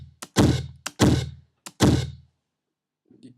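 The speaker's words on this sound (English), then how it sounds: "you can hear the kick" Three punchy kick drum hits from a sample, each a short low thump with a quick decay, spaced evenly and heard alone, with a couple of faint ghost taps before each and a soft trailing knock at the end.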